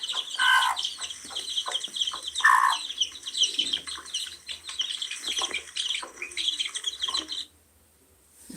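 Chickens cluck and chirp in a busy, close chorus of short repeated calls, kept alongside pigeons, falling quiet near the end.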